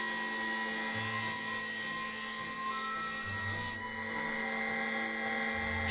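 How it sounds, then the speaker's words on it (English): A hand-feed planer shaves a wood stile or rail for a Japanese shoji screen, giving a steady continuous machine whine with a brief rougher rasping pass partway through, close and loud with no voices. "Shave the wood straight with a hand feed planer."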